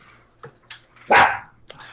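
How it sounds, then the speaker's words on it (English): A dog gives one loud, sharp bark near the middle, bracketed by a few softer yips and short vocal sounds in an otherwise quiet room. "Okay, dog, that's cool."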